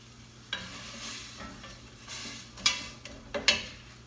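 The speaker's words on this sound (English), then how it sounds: "Just let that saute a little bit" Leek soup base sautéing in a hot pot, a soft steady sizzle broken by a few sharp stirring clanks and scrapes of a utensil against the pot, close by with no talking.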